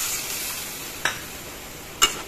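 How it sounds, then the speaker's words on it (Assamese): Pumpkin with dry fish, banana-ash alkali and water is stirred in a pot, giving two brief, soft spoon scrapes about a second apart over a faint steady hiss. "এইখিনি এনেদৰে তলপৰ কৰি লৰাই দি"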